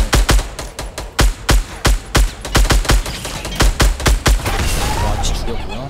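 Rapid gunfire in a Fortnite battle, a fast series of sharp, loud shots in uneven bursts, close by, then fading into a dense rumble of distant fighting with talk underneath.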